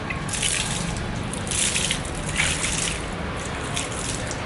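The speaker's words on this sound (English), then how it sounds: "what we'll do is simply wet the surface using water over here." Water is poured or sprayed over the surface of an alloy car wheel during cleaning, a continuous close gushing splash with slight surges, no voices over it.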